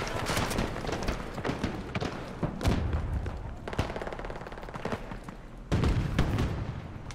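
Sustained automatic AK fire in a Battlefield 2042 match, dense loud bursts of rapid shots with a few heavier thumps and booms, continuous for several seconds with no talk over it.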